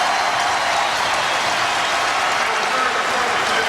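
A packed arena crowd roars and applauds at a South Carolina Gamecocks basketball game against Kentucky at the Colonial Center, a dense, loud, unbroken wash of cheering that holds steady late in the game.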